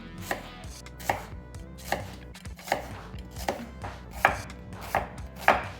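Knife chops through half a brown onion on a cutting board, with about eight sharp, evenly spaced thuds at a steady rhythm. The chops are close and clear with no talking.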